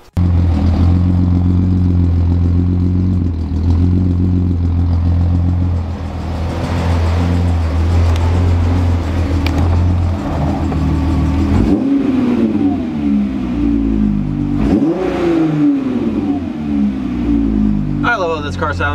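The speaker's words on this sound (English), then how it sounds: "I love how this car sounds." A car engine with a shortened shifter revs and holds a loud, steady idle, then rises and falls in pitch through several throttle blips near the end, with voices over it.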